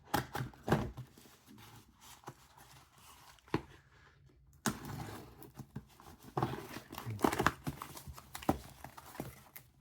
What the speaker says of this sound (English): So let's get out the trusty scissors.